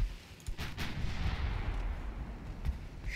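Naval 9-inch gunfire in the warship game Ultimate Admiral Dreadnoughts: a few heavy booming shots over a continuous low rumble of battle, fairly loud and close, no voices.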